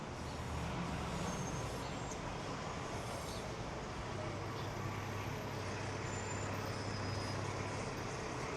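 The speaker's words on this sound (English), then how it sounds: "Also ample amount of buses here too" Buses and general traffic rumble along a busy Long Island City street in New York City, a steady, loud roadway wash with low engine drone throughout and no clear voices.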